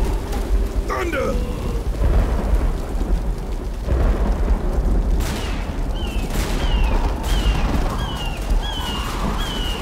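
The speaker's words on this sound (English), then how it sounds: "Thunder!" Rolling thunder from a storm in the video game Left 4 Dead 2, loud and continuous over heavy rain, with bursts of gunfire and a shouted voice near the start.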